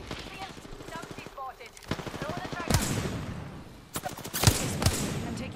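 Apex Legends gunfire in a ranked duo match, with rapid automatic bursts and a few sharp single shots mixed under close, excited player talk.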